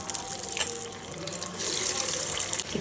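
Marinated chicken 65 pieces frying in hot oil give off a steady, dense hiss of sizzling bubbles that swells slightly partway through, close and continuous with no talking.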